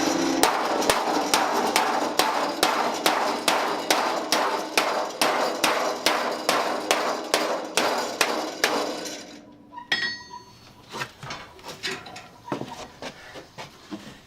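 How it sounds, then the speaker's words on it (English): Rapid, regular blows from a 2-pound hammer ring on sheet steel for about nine seconds, forming a wheelbarrow bin, then a pause and a few scattered lighter taps. "By using this 2-pound hammer, I'm able to apply the force"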